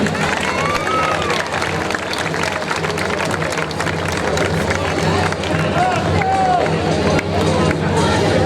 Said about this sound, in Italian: Un applauso anche per questi ragazzi,